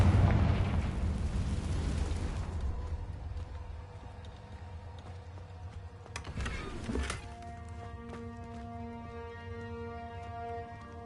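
A Confringo fire spell explodes in Hogwarts Legacy, opening with a loud, dense blast that rumbles away. A second sharp burst follows midway and settles into a sustained tonal hum with no talk.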